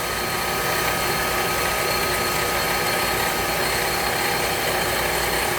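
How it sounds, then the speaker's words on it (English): A metal lathe faces off a workpiece, giving a steady, dense broadband hiss and whir of cutting that holds constant and fairly loud throughout, with no talking. "I'm just going to slowly face that off."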